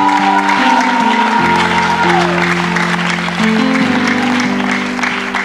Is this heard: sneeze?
no